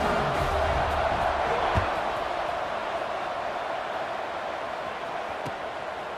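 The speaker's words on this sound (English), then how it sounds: "this crowd is buzzing after that last score" A stadium crowd in a college football video game, UAB hosting BYU, keeps up a steady, loud roar from start to finish, with a single brief thump partway through.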